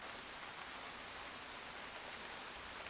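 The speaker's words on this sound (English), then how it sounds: "just let that feeling of the rain falling on my face sink in, and the sound of the rain" Soft, steady rain falls in an even, continuous hiss, quiet and unbroken throughout, with no voices.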